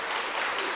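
Church audience clapping for the conductor after a choir and orchestra performance, a brief, soft, even patter of applause heard from a distance.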